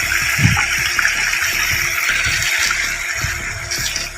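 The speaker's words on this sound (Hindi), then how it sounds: "हर जगह से देखें पानी के चश्मे फूट पड़ते हैं यहाँ पे।" Water gushes from mountain springs in a loud, continuous close-up rush with churning low splashes and no voices.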